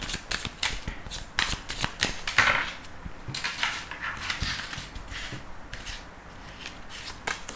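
A deck of tarot cards is shuffled by hand for a reading, giving a loud, close, continuous flutter of riffling and snapping cards with sharp clicks throughout.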